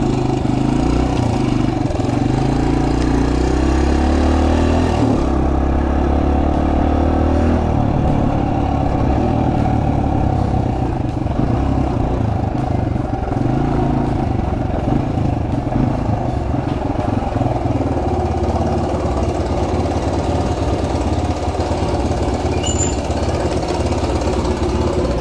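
A Suzuki DRZ pit bike engine runs and revs close by, a loud continuous thrumming that shifts in pitch as the throttle changes, with no talking over it.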